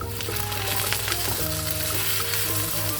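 Beef pieces frying in butter and garlic in a pan make a steady, loud sizzle throughout, with a faint melodic background tone beneath.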